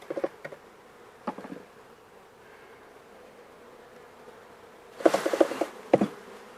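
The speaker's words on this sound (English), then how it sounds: "We're going to shake most of the bees out of that box" Honeybees buzz as they are shaken out of a hive box, bursts of loud, close buzzing and thumps rising over a quieter background hum, with a heavier cluster of activity near the end.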